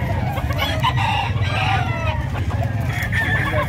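Poultry at a crowded livestock market in San Carlos City, Pangasinan: a constant mix of nearby clucks and rooster crows over a loud bed of market bustle, with faint voices in the background.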